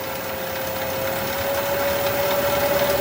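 A wood lathe turning a pecky cherry bowl blank, its motor droning steadily with a clear whining tone that creeps up in pitch and loudness as the speed rises, close and continuous.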